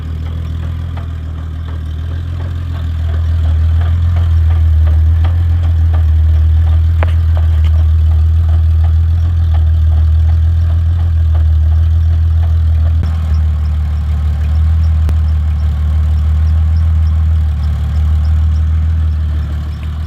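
A 1990 Jeep Cherokee runs steadily at close range in two-wheel drive, its front drive shaft shimmying; a loud, continuous low engine drone with faint clattering stays constant throughout, with no talking.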